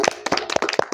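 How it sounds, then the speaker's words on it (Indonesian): A small group of people clapping in a classroom-style ice-breaking session, with a few distinct bursts of hand claps at a steady, fairly loud rhythm, close by, with no talk. "Kita kasih tepuk tangan untuk Cecil."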